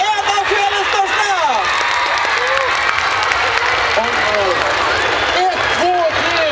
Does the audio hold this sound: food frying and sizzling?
no